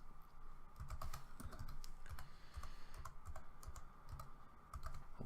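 Rapid typing on a computer keyboard while connecting to a TeamSpeak server on Windows Server 2016, with irregular bursts of clicky keystrokes over a steady low hum and no one talking.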